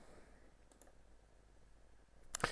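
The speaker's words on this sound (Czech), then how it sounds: "Jo, já vám tady na ní kliknu." A computer mouse gives a single sharp click at the end after near silence, with faint scattered clicks earlier.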